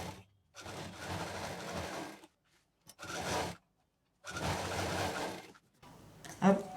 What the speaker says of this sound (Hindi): और इस सेंटर मार्क पर सिल देंगे।